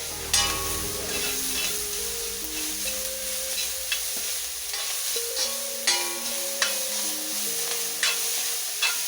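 Chicken manchurian stirred and mixed with pepper powder in a hot pan, with a steady sizzle under repeated scraping and clinking strokes of the spoon, close and moderately loud, no voices.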